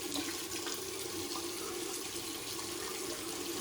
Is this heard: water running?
yes